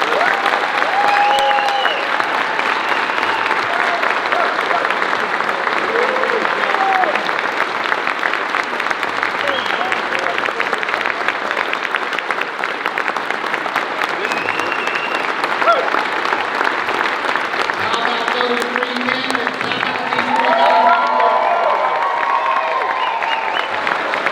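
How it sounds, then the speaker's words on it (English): A large audience applauds political candidates at a Collin County GOP forum for the Texas governor's race. The applause is loud, dense and sustained with no pause, with some cheering and voices mixed in. "all of our candidates here today a round of applause"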